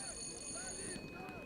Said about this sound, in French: La sonnerie de l'école retentit.